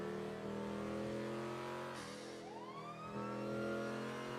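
In a roleplay video game, a police car engine drones steadily while an emergency siren sweeps and then cuts off mid-wail, close and continuous with no talk.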